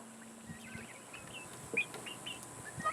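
Dekalb layer chickens cluck and make soft, scattered calls in a homestead yard, fairly faint and intermittent over a low steady background hiss.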